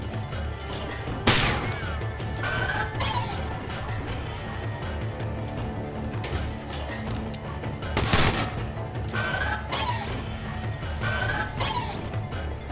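Turrets firing in the SteamWorld Heist video game, with sharp gunshot-like bursts at about 1.3, 2.5, 8 and 11 seconds over a constant droning game soundtrack.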